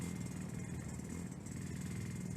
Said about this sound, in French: Il a même un scooter, le gars.